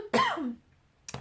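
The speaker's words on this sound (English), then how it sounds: "I thought all my coughs were gone." A woman recovering from illness gives one close, quiet throat-clearing cough, followed by a pause and a brief second rasp.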